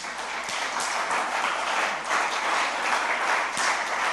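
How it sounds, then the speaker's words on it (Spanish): Steady applause from a church congregation during a Spanish-language sermon, dense and continuous for a few seconds with no talking over it. "Dele un aplauso al Señor."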